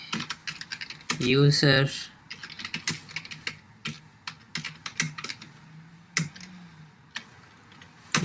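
Code being typed on a computer keyboard, a steady run of quick, close key clicks in uneven bursts, with a brief spoken word partway through.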